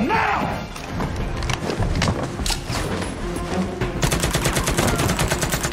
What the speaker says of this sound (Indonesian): Terjadi aksi baku tembak yang sangat sengit di tempat itu.